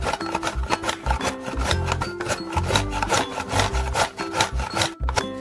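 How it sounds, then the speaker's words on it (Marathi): Carrots for carrot halwa are grated in a fast, steady back-and-forth rasping rhythm. Each stroke gives a close, loud scraping rub that repeats without pause and with no talking. "गाजर किसून घेऊया।"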